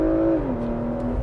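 A 2022 Porsche Macan GTS accelerating at full throttle in sport response gives a steady engine drone that holds, then dips slightly in pitch as it shifts, heard from inside the cabin.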